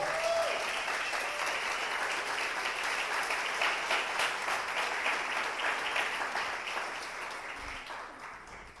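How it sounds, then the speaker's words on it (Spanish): A church congregation applauds in a long, steady wash of clapping that fades slightly toward the end, heard from a distance with no clear talk over it. "Dale un aplauso al Señor."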